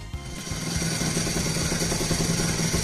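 A Honda NSR250R two-stroke motorcycle fitted with a Jha expansion chamber and a homemade silencer idles just under 1500 rpm, a steady crackling, burbling engine note heard up close after a brief start.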